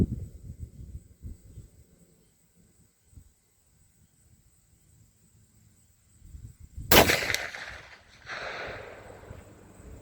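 A single loud rifle shot from a CVA single-shot rifle in .450 Bushmaster during an outdoor 100-yard group test, sharp and close, followed by a decaying echo after quiet handling noises.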